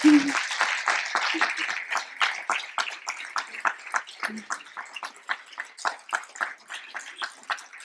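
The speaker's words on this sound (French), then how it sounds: "On peut l'applaudir" A small audience at a New Year's greetings gathering claps for a woman, with sharp, separate hand claps in a quick, fairly even rhythm that thin out and soften over several seconds. A brief voice is heard at the start.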